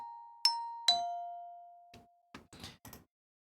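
A dry vibraphone with no reverb sounds two clear struck notes with ringing tails, followed by a few soft, quieter mallet taps that die away quickly.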